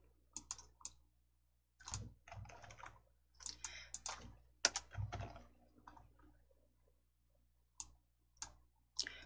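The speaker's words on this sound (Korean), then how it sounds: "기타 사항 앞에 클릭하시고 컨트롤 키 누르시고 F10" Keyboard keys and mouse buttons clicked while working in the Hangul word processor, heard as scattered, close, crisp clicks and taps in short bursts with quiet gaps between them, including a Ctrl+F10 shortcut press.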